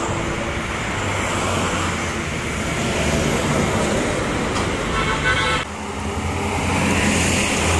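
Intercity bus on a Sumatra–Java route passing a roadside rest area in Indonesia, a steady loud engine roar through the whole stretch with a horn toot, mixed with surrounding traffic noise.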